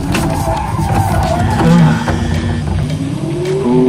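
A race car in a racing video game revs hard and its tyres squeal as it understeers and skids, with a continuous loud engine drone and shifting pitch but no distinct crash impact.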